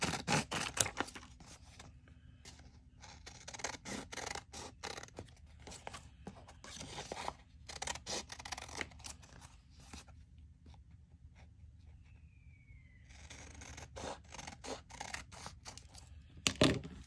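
Scissors snip through paper as journal cards are cut out, a steady run of close, crisp cuts with short pauses and light paper rustling, no talk.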